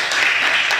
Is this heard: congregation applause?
yes